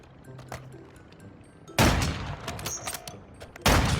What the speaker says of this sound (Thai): มีคนยิงเฮลิคอปเตอร์นะทุกคนหนีก่อนแล้ว